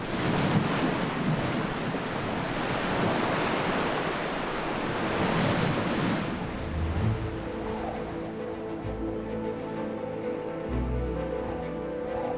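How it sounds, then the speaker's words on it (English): Wind-driven waves lash open water, a loud roaring wash of surf and gusting wind that fills the first half, then eases into lower rumbling swell with a faint tonal hum. "Falling winds lash the surface of the water. Waves can reach meters in size."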